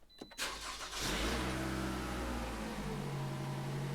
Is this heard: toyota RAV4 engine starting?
yes